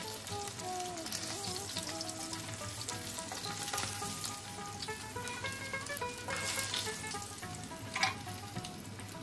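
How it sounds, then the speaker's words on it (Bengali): Pieces of chital fish sizzle in hot oil with a steady, crackling spatter throughout, close and fairly even, punctuated by occasional louder pops and the stir of a utensil. "এদিকে মাছগুলো আমার ভাজা হয়ে গেছে, এবার তুলে নিচ্ছি"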